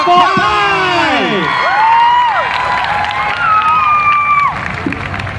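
A rally crowd on Labour Day cheers and claps for a nervous young climate-advocate speaker, with whoops and voices sweeping up and down over a steady wash of applause before it thins out near the end.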